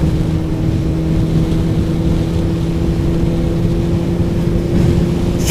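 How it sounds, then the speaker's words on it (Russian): Kawasaki motorcycle ridden on the road at the opening of the riding season; a steady, loud engine drone with constant pitch, mixed with wind rush and no talk over it. "когда я на мотике еду"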